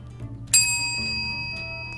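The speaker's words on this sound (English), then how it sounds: "and ring that bell." A single bright bell ding strikes sharply and rings on with a long, sustained, slowly fading tone over a low background hum.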